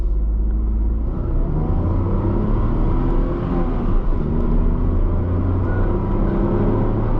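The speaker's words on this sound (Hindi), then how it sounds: "पूरा एक्सीलेटर पेडल पुश कर रखा है मैंने" A Tata Tiago hatchback accelerates hard at full throttle from a standstill, its engine note a steady loud rumbling drone that holds strong throughout with no voices.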